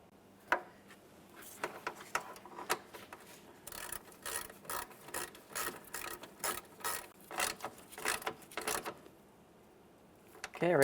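A 10mm ratchet snugs up the fog light mounting bolts on a 1999-2006 Chevrolet Silverado 1500, giving close, rapid runs of light clicking with brief pauses between strokes.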